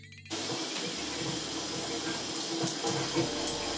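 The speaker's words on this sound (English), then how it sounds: "So I'm putting my entire head under the water, and then I'm gonna go section by section to thoroughly rinse my hair." Water runs steadily from a tap as a head of hair is rinsed under it, a constant close hiss and splash that starts abruptly and shifts slightly as the hair moves under the stream.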